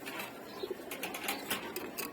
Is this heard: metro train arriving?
no